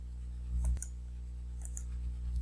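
A mouse clicks the Add Exception button in ECOUNT software: two or three faint, sharp clicks spaced apart over a quiet, humming background.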